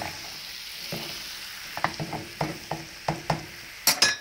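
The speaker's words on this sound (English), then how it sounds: "So that butter is melting, and we'll just keep putting it onto the, keep basting the meat." Pork tenderloin sizzles quietly in melted butter in a pan while it is basted, with a steady soft fry under a series of sharp clicks and scrapes from the spoon that come quicker toward the end.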